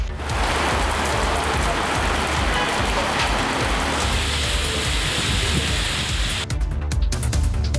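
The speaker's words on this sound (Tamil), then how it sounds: "மாலையில் திடீரென்று பரவலாக மழை பெய்ததால் குளிர்ச்சியான சூழல் நிலவியது" Heavy evening rain pours steadily and densely over an area in Tamil Nadu, a loud continuous hiss of drops on surfaces that holds without pause throughout.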